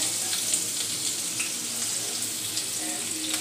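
Finely chopped garlic hits hot oil for Schezwan fried rice and sizzles with a steady, dense hiss that carries evenly throughout, close and fairly loud, with faint clinks under it.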